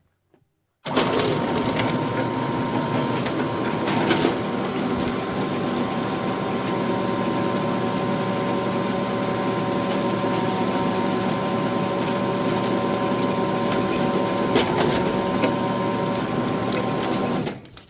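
A DS95i folder inserter machine runs continuously while folding letters and inserting pre-folded flyers, giving a steady mechanical whirring hum with repetitive clicking and a couple of sharper clacks, close and loud, with no talking.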